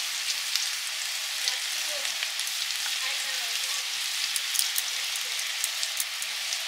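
Fish curry with turmeric frying in a pan, a steady hiss of sizzling oil with faint crackles, continuous and close throughout with no voices.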